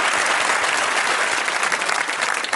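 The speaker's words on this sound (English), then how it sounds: "a big round of applause for..." Studio audience applauding on a television quiz show, a dense, steady burst of clapping that fills the whole moment at close range with no speech over it.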